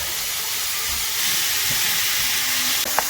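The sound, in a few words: ground hamburger browning in oil in a pan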